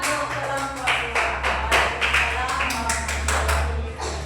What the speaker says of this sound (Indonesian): Tepuk tangan dulu untuk kelompok dua.